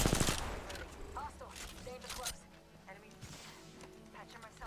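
Bursts of gunfire from a shooter video game rattle in quick volleys, mixed with voices talking over the action.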